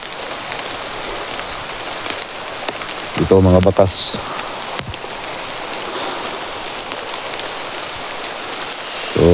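Steady rain falls outdoors in a continuous hiss that fills the whole scene, with a brief burst of talk partway through and again at the end.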